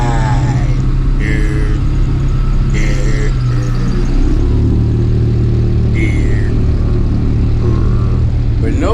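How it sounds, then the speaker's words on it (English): A 110cc Serpento Nova motorbike rides along a road from Manuel Antonio to Biesanz Beach in Costa Rica, its mid-pitched engine droning steadily and loudly close up through the whole stretch, with brief voices and wind noise over it. "we are riding this beautiful 110cc Serpento Nova"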